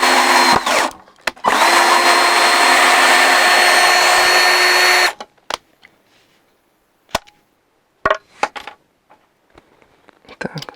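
A cordless drill-driver set to first speed whirs loudly and steadily for about four seconds, with a brief stop and restart near the start. Scattered clicks and handling knocks follow after the motor stops.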